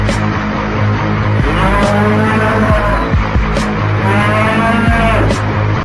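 A cartoon buffalo gives loud, long, drawn-out moos that rise and fall in repeated calls over a dense, noisy backdrop.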